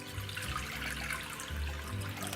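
Coconut water, two cups' worth, pours into a bowl as a soft continuous splash and gurgle, close and fairly quiet, steady throughout the short span.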